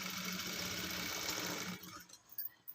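A sewing machine stitching around the neckline of a long frock made from a saree gives a rapid, close, buzzing run of stitches for almost two seconds, then stops, leaving only faint handling noises.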